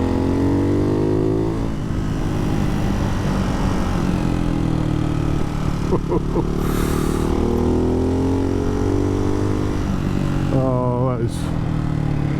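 A Ducati Hypermotard 698 Mono with a Termignoni exhaust runs loud and close, its single-cylinder engine climbing and dropping through the revs while a rider briefly exclaims over it.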